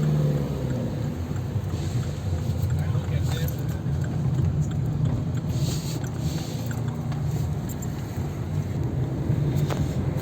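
A car drives along a busy London road at night, a steady low engine and road rumble with faint passing traffic, heard from inside the vehicle.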